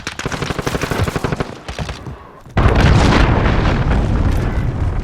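Rapid automatic gunfire in the shooter game Modern Warfare rattles in fast bursts, then a deep booming missile launch and explosion roar in with a loud, sustained rumble, all close and without talk.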